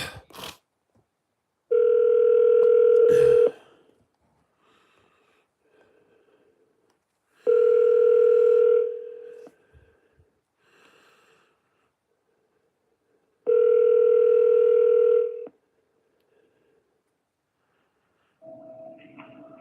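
A phone call placed through an Alexa smart speaker rings out: three long, steady ringback tones spaced evenly apart, clear and close with near silence between them.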